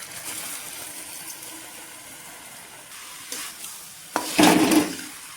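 Rice is stirred in a pot with ghee, ginger and green chili for bhuna khichuri. A soft, steady sizzle runs under it, broken near the end by a louder burst of scraping and stirring, with no talk.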